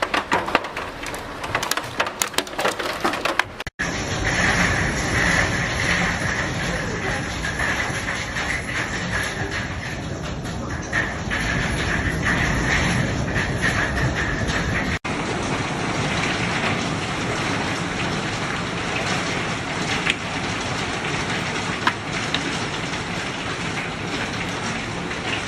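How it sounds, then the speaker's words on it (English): Large hail and rain lash down in strong winds during a Nashville, Tennessee storm, a dense continuous roar with scattered clattering impacts, steady and loud throughout. "Oh man, that is some big hail."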